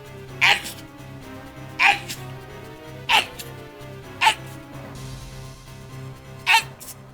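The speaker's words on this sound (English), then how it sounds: "the sneezing that many times in a row makes my whole chest sore" A person sneezes five times in a row at roughly one-second intervals, each sharp burst standing out clearly over a quiet background of game music.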